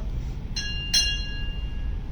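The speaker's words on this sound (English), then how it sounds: "Time orderly. Sound 2 bells." Two bright strikes of a ship's bell in quick succession at a naval retirement ceremony, ringing out and fading slowly over a low background hum.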